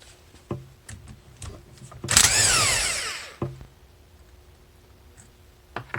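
Power tool spinning out an ATV cylinder head bolt with a 10 mm socket, one loud whirring burst of about a second and a half that winds down, with softer clicks and taps of handling before and after.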